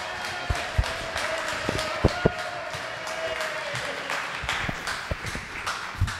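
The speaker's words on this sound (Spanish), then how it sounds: "para que por favor lo recibamos con otro fuerte aplauso" Audience at a political-electoral reform congress applauding to welcome a magistrate, a steady wash of clapping with a few sharp louder claps standing out, no one speaking over it.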